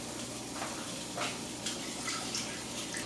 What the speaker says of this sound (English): So I added about a cup of water.